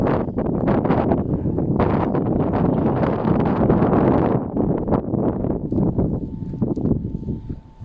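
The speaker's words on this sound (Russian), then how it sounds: "Но ветер сегодня до 30 метров в секунду." Strong wind of up to 30 metres per second in a northern Russian town roars and buffets the microphone continuously, loud and gusty throughout, with rustling and no one speaking.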